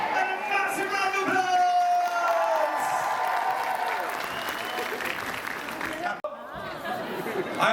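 A large crowd at Liverpool Comic Con applauds and cheers loudly and steadily, with whoops and chatter mixed in and a brief dip near the end before the noise resumes.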